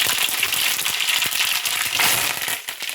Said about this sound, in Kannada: ಇದರಲ್ಲಿ ಸ್ವಲ್ಪ ಒಗ್ಗರಣೆ ಮಾಡ್ಕೊಂಬಿಡೋಣ